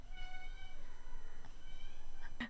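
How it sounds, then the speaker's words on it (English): A cat meows indoors in a drawn-out, wavering cry close by, holding at a fairly steady level before a brief sharper sound at the end. "Sorry, my cat."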